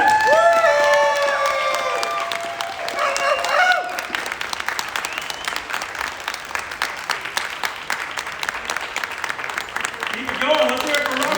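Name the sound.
convention crowd applause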